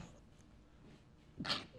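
A single short, sharp sneeze bursts out near the end after a quiet stretch, close by.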